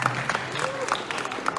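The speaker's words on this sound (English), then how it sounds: "Pastor Ernest, a round of applause," A brief round of applause from an audience at a townhall meeting in Pretoria's State Theatre, scattered clapping running through the moment with a voice speaking over it.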